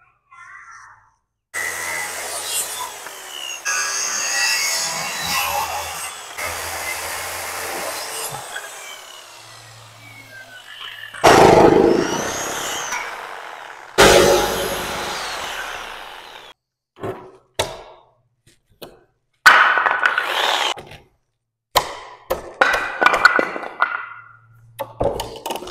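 A power saw cuts through a wooden stair stringer in several bursts of whining, rasping cutting separated by pauses, with sharp knocks and handling clatter toward the end.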